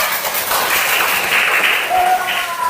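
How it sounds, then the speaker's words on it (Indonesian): Third-grade pupils in an Islamic religious education classroom burst into a short round of clapping and cheering voices, loud and close, with children's chatter woven through it. "Tepuk tangan untuk kita semua"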